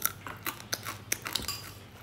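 Crunchy guoba, crisp scorched rice crust, being bitten and chewed close up, a quick run of sharp crackling crunches in an irregular rhythm, fairly quiet and with no talking.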